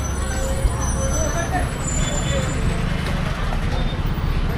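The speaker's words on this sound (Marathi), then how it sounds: "गाडी आली भावांनो गाडी आली" A bus pulls up on a roadway near Nashik on the way to Trimbakeshwar, its heavy engine rumbling loud and close amid traffic noise, with voices talking over it.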